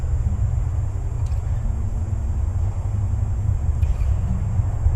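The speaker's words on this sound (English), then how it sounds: "Here you can hear that road. Some of these people with trucks barrel down that road." Trucks rumbling along a nearby road at a rocky rural build site produce a continuous low, steady drone, moderately loud and without a distinct pass-by.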